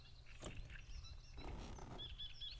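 A raccoon calls in the video game Hello Neighbor Hide and Seek, a few faint, high chirping cries over low ambient rumble, with no voices.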